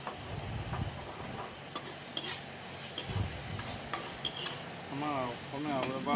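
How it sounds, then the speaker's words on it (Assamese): A spoon scrapes and stirs red ant eggs in a pan for a traditional Assamese dish, with a quiet low sizzle and irregular soft clicks of utensil against metal. The sound is close but faint. "আৰু এতিয়া মই ভালদৰে এই আমলৰি টোপখিনি লৰাই লৈছোঁ।"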